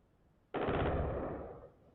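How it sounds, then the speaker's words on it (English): A sudden burst of gunfire in Tehran starts abruptly and holds as a dense, rapid rattle for about a second before cutting off, loud and distant-sounding. "Gunshots in Tehran."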